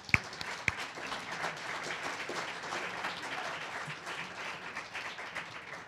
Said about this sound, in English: We could all clap for that.